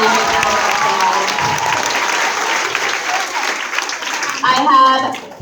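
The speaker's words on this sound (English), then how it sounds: "Let's give her a really big round of applause." A crowd gives Miss Lori a big, steady round of applause, with dense clapping held throughout and a voice cutting in briefly near the end.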